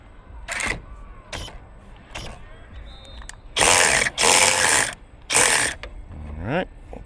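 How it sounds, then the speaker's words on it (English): A ratchet turns a 15 mm socket to loosen a bolt on a Jeep Gladiator, giving short clicking bursts followed by three longer, louder runs of rapid ratcheting, close up with no talk. "All right, so 15 mil socket. I'm gonna pop it on there, and we will remove this."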